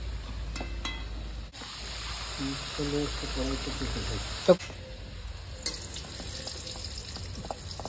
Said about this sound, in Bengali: এটা কষতে হবে ভালো করে আলুগুলো